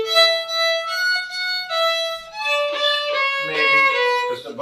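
A beginner plays violin sloppily, bowed notes wavering and scratchy with a sliding bow, alone at moderate loudness for a few seconds.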